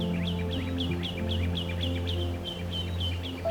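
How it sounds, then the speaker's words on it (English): Repeated high chirping bird calls in a steady series over a constant low engine-like hum, moderately close, with no speech. "I hear the birds chirping."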